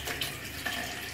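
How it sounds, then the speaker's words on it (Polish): A tap runs steadily at a sink in a pizzeria in Rome. The stream is a soft, continuous splash of water, fairly quiet and close, with no voices. "oto kran odkręcamy, że tutaj nie ma żadnego kurka, tylko proszę, myk i leci woda"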